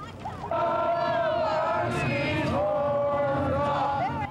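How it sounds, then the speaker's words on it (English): A large crowd at an Aggie bonfire celebration roars and yells in unison, a loud sustained mass of voices that surges after a brief quieter start. "There were the usual yells and Aggie songs"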